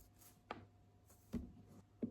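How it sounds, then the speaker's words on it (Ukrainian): A knife carves a face into a Halloween pumpkin, giving three separate short cutting strokes spaced about a second apart, close and quiet with no talking. "Тому будемо вирізати йому лице ось тут."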